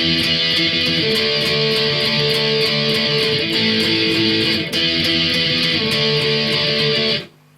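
Electric guitar playing a looped punk chord progression, steady driving strums with crunchy overdrive, loud and alone, sliding between positions before ringing out and cutting off at the end.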